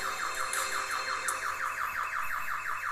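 Alarm blaring in the Roblox Piggy game, a rapid repeating electronic wail that rises and falls in a fast, even cycle, loud and steady throughout with a faint higher chirp now and then.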